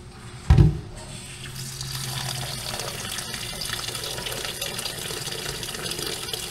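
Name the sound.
soaking food in cold water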